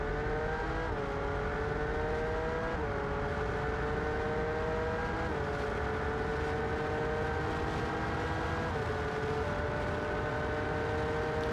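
Racing-game car engine lapping the Nurburgring, a steady high-revving drone with stepped pitch shifts at each gear change, loud and continuous with no voices.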